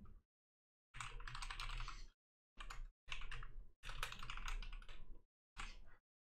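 Close, crisp bursts of computer keyboard typing, several quick runs of clattering keystrokes separated by short silent gaps.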